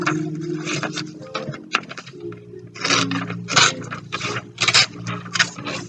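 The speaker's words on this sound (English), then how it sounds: "then you can just rip off the bit that you don't want" A piece of paper is ripped off by hand for a festive Christmas cracker decoration, giving close, loud bursts of crisp tearing and crinkling in short uneven strokes.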